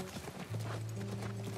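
A horse's hooves clip-clop in The Last of Us, a quick run of hoof strikes over low ambient hum, close and moderately loud.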